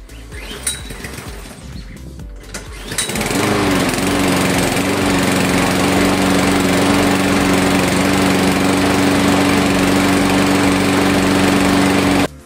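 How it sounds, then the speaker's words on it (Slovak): An AL-KO 470 BR-A petrol lawn mower sputters through a few brief pulls, then catches and runs at a loud, steady drone until it cuts off at the end. "Kosačka nám pekne zaštebotala, čiže všetko máme funkčné"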